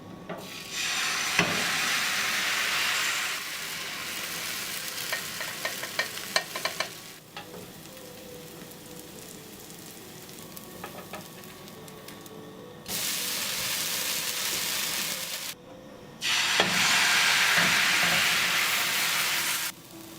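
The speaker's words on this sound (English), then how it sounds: "Flip our pancake and briefly fry the other side." A thin pancake fries in a pan with a steady, close sizzle that swells into louder, hissing stretches and briefly drops away between them. No one speaks.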